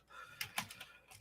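Someone types slowly on a computer keyboard, a few separate key clicks with uneven gaps, fairly quiet and close, no speech.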